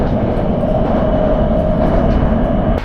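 A subway train in China rumbles past, loud and close, with a steady roar and a sustained tonal hum that cuts off abruptly at the end.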